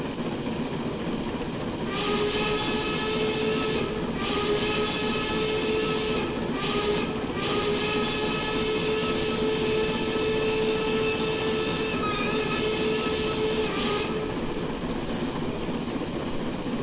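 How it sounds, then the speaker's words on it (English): A 4-4-0 steam locomotive in Train Simulator Classic sounds a sustained, loud steam whistle that swells and dips in several blasts over a steady hiss and rumble of the running engine. "If you hold your whistle button down, it'll play through that little bit of whistle there"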